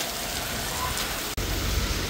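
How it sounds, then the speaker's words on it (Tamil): Heavy rain pours down on a road trip near Nainativu, Jaffna, a dense, loud, steady hiss of drops hitting surfaces all around, with a brief dropout midway. "இப்படி மழை பார்த்துருக்கீங்க?"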